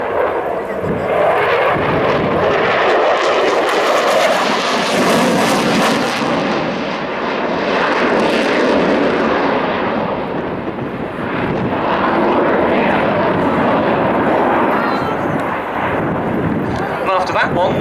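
An RAF Eurofighter on a display pass at RIAT 2013 gives off a loud, sustained jet roar that swells and shifts in tone as it moves, with a commentator talking over it.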